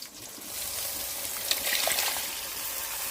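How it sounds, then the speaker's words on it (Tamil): Tamarind water pours steadily into a pot for a spicy dried-fish curry, a continuous close splashing trickle that runs the whole time with slight surges midway. "புளி தண்ணியை ஊற்றியாச்சு."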